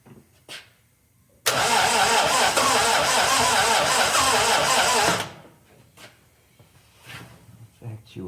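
A 1961 Triumph TR3A with a new high-torque starter cranks and catches, giving about four seconds of loud, steady engine roar that then cuts off, followed by quieter movement and faint noises nearby.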